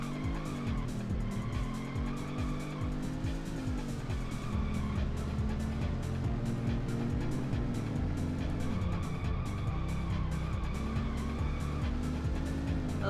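A game car in Rush 2 drones on with a continuous engine roar, and long tire squeals run over it as it skids and slides through turns. Heard up close and steady, with no voices.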